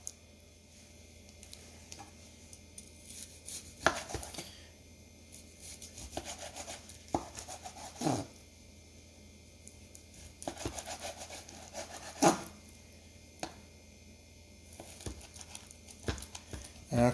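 A knife trimming fat from raw chicken and slicing it, heard as faint, intermittent wet squishing and scraping strokes in short bursts, close by with quiet pauses between, and no voices.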